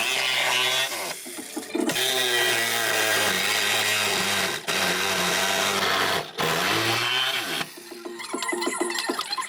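A power tool cuts the center beam out of a rear-wheel-drive Toyota Tercel. The grinding whine is loud and close and runs almost continuously, with a few brief dips and a rougher, rattling patch near the end.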